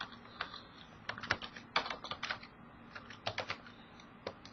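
Rapid keystrokes on a computer keyboard while text is entered into a box in a to-do database program, close and clear, in irregular bursts of clicks with short pauses and no talking.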